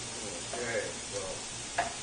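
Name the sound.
meat browning and being stirred with onions in a pan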